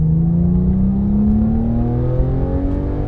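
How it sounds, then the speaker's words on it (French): A Porsche 997 GT3 accelerates hard out of a corner on a mountain road, its engine note climbing steadily in pitch with a loud, close, continuous rev. "On redresse les roues et on accélère."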